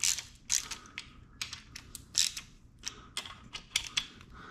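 A ratchet snugs down the connecting rod cap bolts on a 360 Magnum engine, giving a series of quiet, irregular clicking bursts that come close together with small pauses between them.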